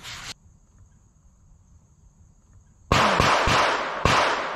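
Several sharp rifle shots ring out at a shooting range, one brief crack at the start, then after a quiet pause four loud reports in quick, uneven succession, with no talking.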